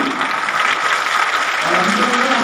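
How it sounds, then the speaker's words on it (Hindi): Audience applause at a Republic Day school program in India, broad and sustained for the whole stretch at steady volume, with faint voices beneath. "डॉक्टर साहब के लिए जोरदार ताली करो।"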